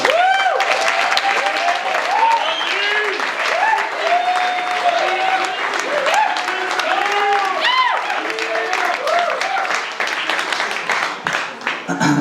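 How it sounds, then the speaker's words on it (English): Wedding guests applaud the parents of the bride and groom during the reception speeches, a steady, loud round of clapping sustained for several seconds while voices call out and chatter over it. "So if everyone could give them a round of applause."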